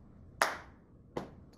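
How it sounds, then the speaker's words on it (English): Two sharp hand claps about three-quarters of a second apart ring out alone in a quiet room, part of a slow five-beat pat-and-clap pattern taught in a Diwali music lesson. "Pat, clap, pat, pat, clap."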